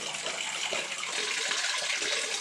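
Water sloshing and splashing steadily as a gold pan is worked in water by an old gold mine, a continuous broadband wash with no talk.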